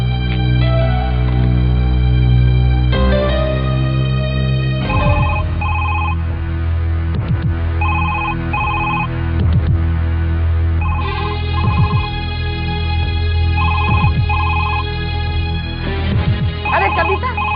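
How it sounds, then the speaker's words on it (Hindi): A telephone keeps ringing unanswered in a home, a repeating electronic ringtone pattern that goes on over a steady musical background. "फोन क्यों नहीं उठा रहा कोई?"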